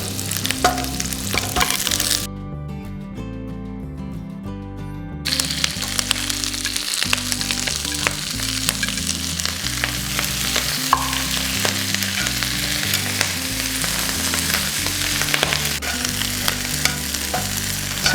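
Brussels sprouts sizzle and crackle in butter in a hot pan and are stirred now and then, with a constant close frying hiss. Background music plays underneath throughout, and there is no speech.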